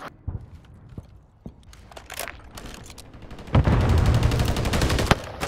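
Gunfire in Call of Duty Modern Warfare 3, with scattered sharp shots early on, then a dense burst of rapid fire in the second half, loud and close.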